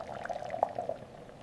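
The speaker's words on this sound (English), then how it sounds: "Pour in a generous amount of high quality honey" Honey poured into a saucepan of melted butter and brown sugar, giving a soft, steady liquid trickle with faint bubbling and one brief louder splash partway through, heard close up with no talk.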